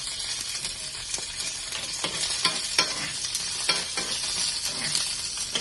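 Green chillies frying with garlic in hot oil crackle and sizzle loudly and continuously, with repeated scraping strokes of a spatula stirring the pan.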